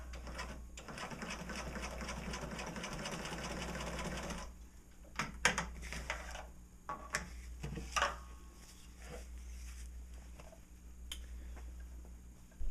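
A sewing machine stitches in a fast, even run of needle strokes for about four seconds, then stops, leaving scattered clicks and handling noises over a low steady hum.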